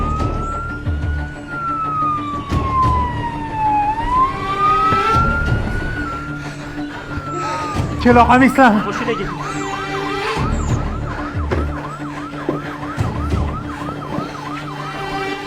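Ambulance siren wailing in traffic, a sweeping tone rising and falling, then switching to a fast yelp midway, loud and close, with a car engine and brief voices talking underneath.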